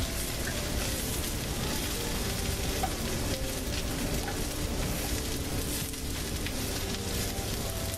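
Spinach and mushrooms sizzle in a frying pan, a steady dense hiss like rain that stays even and close throughout with no pauses and no voices.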